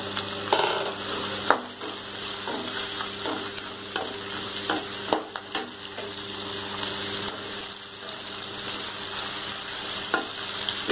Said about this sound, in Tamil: இப்போ இதுலேயே நம்ம எடுத்து வச்சிருக்க வெண்டைக்காவையும் போட்டுக்கலாம்.